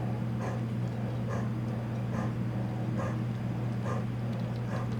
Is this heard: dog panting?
yes